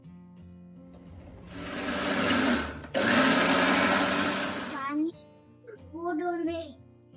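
A mixer grinder blitzes cooled onion-tomato masala with coconut and garlic for egg curry, a loud whirring roar in two bursts with a brief stop between, then the motor dies down as a voice talks.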